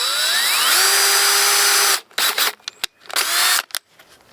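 Power drill boring a pilot hole into wood while building a wooden goat-proof gate: a steady, loud whine that rises in pitch, runs for about two seconds, then breaks into several short stop-start bursts.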